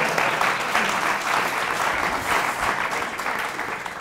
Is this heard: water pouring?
no